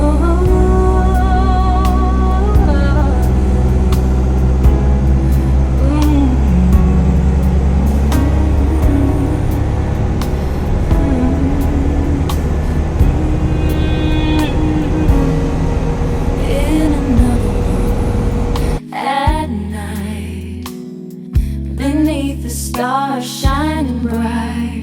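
A Mercedes W115 /8 220D diesel car drives along with a steady engine drone and road rumble inside the cabin, while music plays loudly over it and the sound becomes choppier and broken up toward the end.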